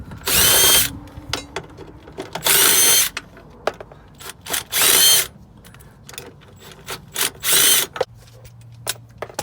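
Power tool, likely an impact gun, spinning fasteners off a car sway bar during subframe work, several loud bursts of whirring and rattling separated by short gaps and scattered clicks.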